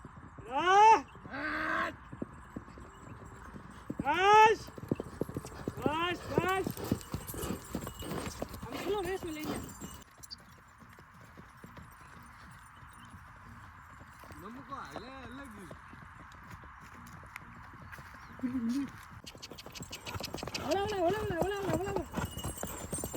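Hooves of a mare and her foal clip-clopping as they run at a farm, a rhythmic patter of beats under someone talking, with a long quiet stretch in the middle.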